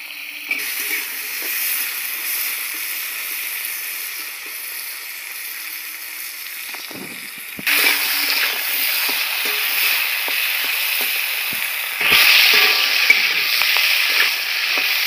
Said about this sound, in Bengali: কেটে রাখা বাদবাকি সবজিগুলো ভেজে নিচ্ছি।